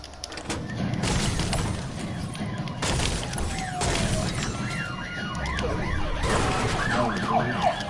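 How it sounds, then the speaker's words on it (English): Video game police sirens wail in rising and falling sweeps as they approach, growing more prominent over a steady rumbling background, with faint murmuring beneath. "The sound of approaching police sirens makes its way to station."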